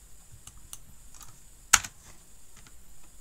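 Computer keyboard keys are tapped quietly on a Windows PC for copy and paste shortcuts, a few sparse clicks with one sharper, louder keystroke in the middle.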